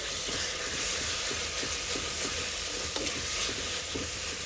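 Onions frying in a pan with salt for an egg pulusu, giving a continuous soft sizzle and crackle with faint scraping stirs, close and fairly quiet.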